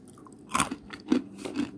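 Crunchy baked cheese sticks, a crisp no-oven cookie made from four ingredients, are bitten and chewed up close, giving three sharp crunches spaced across a short quiet stretch.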